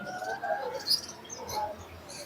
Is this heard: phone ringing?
no